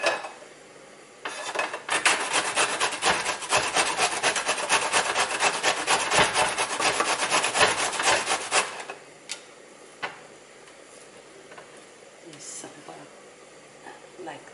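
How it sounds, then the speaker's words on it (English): Bottle gourd being grated for a meat and gourd curry; a fast, steady rasping scrape runs for several seconds close up, then stops, leaving quieter handling noises and scattered rubs. "Grate all the Lauki and put it to the side until the meat become tender"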